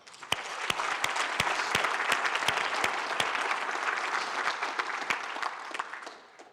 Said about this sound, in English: please, a big round of applause for that